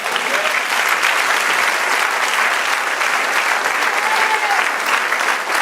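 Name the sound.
congregation applause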